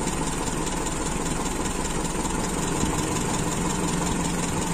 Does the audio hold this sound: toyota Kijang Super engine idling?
yes